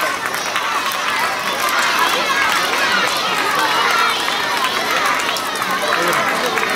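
Crowd of students at a school sports day cheers and shouts steadily for their team, a dense, loud wash of voices with running noise throughout.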